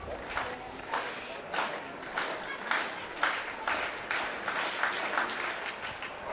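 An athletics-meet crowd in New Zealand keeps a slow, rhythmic handclap going for a high jumper's attempt, with regular beats about every half second heard from a distance while a commentator talks over it.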